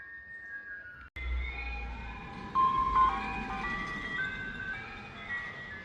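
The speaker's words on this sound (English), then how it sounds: "And we have an ice cream truck." A tinkly ice cream truck melody plays steadily over low engine rumble, its electronic tune repeating in bright, slightly wavering notes.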